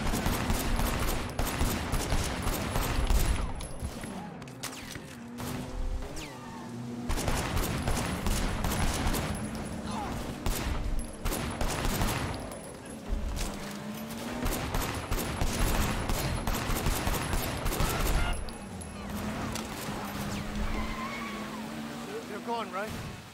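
Gunfire in the video game Sleeping Dogs, bursts of shots over game music and engine-like background sound, with voices talking throughout.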